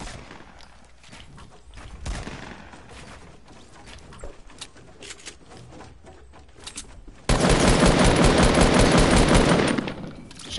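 Bursts of rapid automatic gunfire in a console shooter game, sparse shots at first, then a loud sustained volley near the end.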